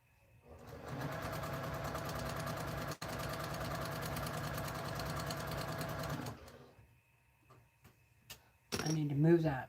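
A sewing machine stitching two friendship-quilt pieces together along the long side runs in a steady, fast whir for about five seconds, then stops, followed by a few light clicks and handling noises.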